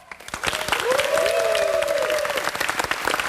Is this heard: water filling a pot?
no